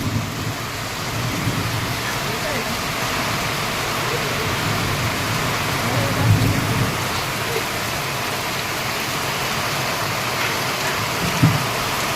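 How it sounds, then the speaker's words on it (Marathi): Steady, heavy monsoon rain in Niphad, Maharashtra, hisses continuously, with a couple of low, muffled rumbles of thunder breaking through in the middle and near the end. "आणि संततधार पाऊस"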